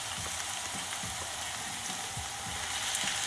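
Peppers frying in a pan for a Sicilian-style dish, a steady close sizzle with faint pops and occasional soft stirring sounds, no speech.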